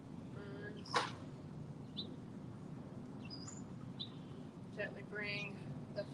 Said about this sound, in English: Listen to the sounds, birds.